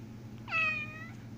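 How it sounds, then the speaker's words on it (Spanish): A cat gives a single clear meow of about half a second, rising and then falling, over a steady low background hum, with no talking. "Ese es el gato que come, coma pan."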